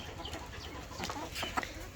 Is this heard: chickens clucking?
yes